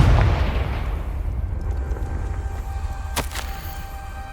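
The Confringo explosive spell from Hogwarts Legacy lands as a heavy, booming blast that trails off into a long rumbling decay, with a short bright crackle partway through the tail.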